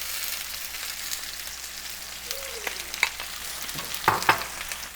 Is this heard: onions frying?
yes